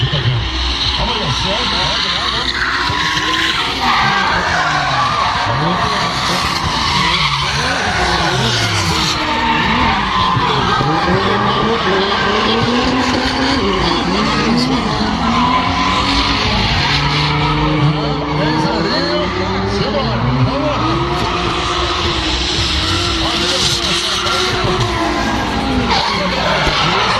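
A Nissan 350Z fitted with a Toyota six-cylinder engine drifts at a show, its engine wailing and rising and falling in long sweeps with tires skidding and squealing loudly throughout, while a commentator talks over it.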